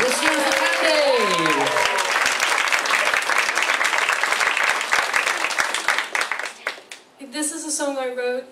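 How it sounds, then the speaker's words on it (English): A live concert crowd claps and cheers loudly while a voice calls out over it; the applause fades and a voice continues speaking near the end. "Give her a big round of applause, please."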